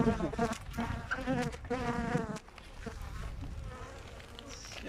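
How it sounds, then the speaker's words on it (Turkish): Bees buzz steadily around an eight-frame hive, a dense droning hum with individual insects passing close by, loud at first then settling into a softer swarm. "Bak bu arı buraya gelmiş"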